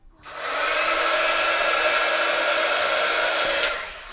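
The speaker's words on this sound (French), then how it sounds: "si on veut un petit peu accélérer le séchage, on peut venir donc au sèche-cheveux" A hair dryer switches on to speed the drying of a watercolour painting, blowing with a steady, loud whooshing whine, running continuously for several seconds before a small click near the end.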